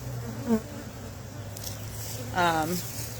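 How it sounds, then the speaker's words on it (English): Honey bees buzz in and around a hive box, a low continuous hum with a couple of bees swooping near, while someone talks nearby. "there's a lot of bees in here"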